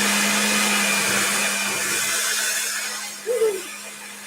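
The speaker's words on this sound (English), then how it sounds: "Then we're gonna go ahead and use the beaters and blend the rest of it." Electric hand mixer beaters blend peanut butter cookie dough in a kitchen, giving a steady close whirring hum with a brief bump of scraping near the end.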